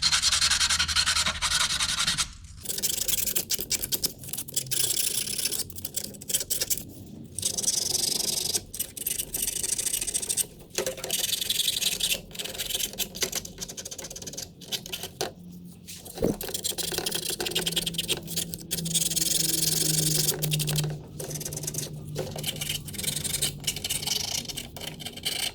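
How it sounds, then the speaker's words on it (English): Light hand sanding of car parts with 400 grit sandpaper to remove a bit of surface rust, giving a steady close-up scratchy rubbing broken by brief pauses. "I'm just gonna sand over these just lightly, just to get that little bit of rust off them"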